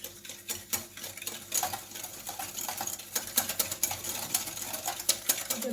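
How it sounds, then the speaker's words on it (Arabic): Whisk or spoon stirring pancake batter of sugar, citrus zest and a pinch of salt in a bowl until the sugar dissolves, giving quick, rhythmic scraping clicks that run steadily throughout. "ودابا غنخلط هاد المكونات جيدا"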